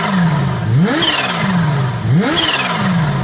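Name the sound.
2022 Kawasaki H2 SX SE motorcycle engine revving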